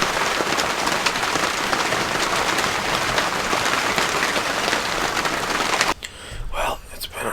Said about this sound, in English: Man, is it raining though.